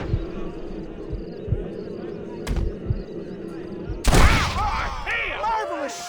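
Gunfire from a Red Dead Redemption game scene: several sharp shots ring out over a rumbling game soundscape, followed by a louder burst with echoing, ringing tones.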